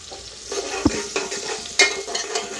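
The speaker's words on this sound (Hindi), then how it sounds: "ज़ीरे के बाद देखिए इसमें डालते हैं प्याज" Onions frying with cumin in a hot pan, a steady loud sizzle with several sharp stirring scrapes and clinks of a spoon against the metal, no voices.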